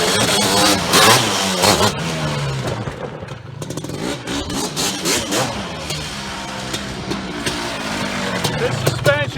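A Suzuki LT250R quad's engine revs hard in repeated rising and falling surges, loud and close, with rough clattering and wind noise over the run.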